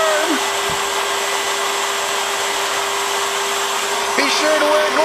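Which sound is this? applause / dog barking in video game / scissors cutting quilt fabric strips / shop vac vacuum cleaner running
shop vac vacuum cleaner running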